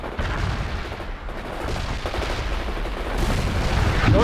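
Battlefield gunfire and grenade blasts in the World in Conflict strategy video game, a dense rumbling mix of shots and explosions that swells louder toward the end, with no talk.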